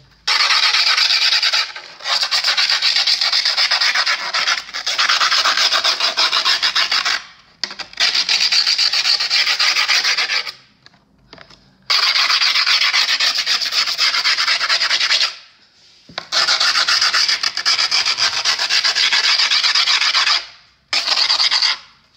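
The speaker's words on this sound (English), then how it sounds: "you can use a screwdriver or anything hard, and then I start to just trace along the edge" Rough, raspy scraping of a screwdriver dragged along the edge of skateboard griptape on a deck, in long strokes broken by brief pauses, close and loud.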